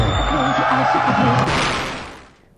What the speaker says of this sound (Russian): Громче, громче, громче аплодисменты.